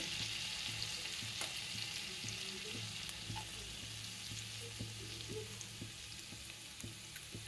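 Cumin seeds with chopped garlic and ginger sizzle in hot oil in a pan for tava pulao. A dense, steady frying hiss carries on throughout, close and even, with scattered small pops and stirring clicks, and no voices.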